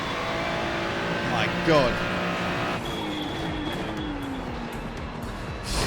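Race car engines in a sim racing game played on a Moza R12 wheel: a pack of cars screams and whines as revs rise and fall, with a brief tire squeal and a man calling out over the noise.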